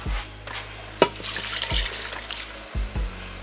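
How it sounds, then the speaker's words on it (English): A cup of water poured into a pot roast of chuck beef, a splashing, trickling pour with a few clinks of the cup against the pot. "And then I'm going to add a 2nd cup of water."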